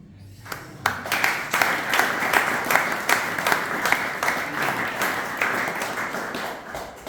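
An audience bursts into applause and keeps clapping steadily for several seconds, a dense, even patter of many hands in an indoor hall.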